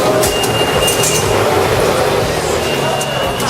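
A New York MTA subway train rumbles steadily and loudly nearby, with faint wheel squeals riding over the constant clatter and noise.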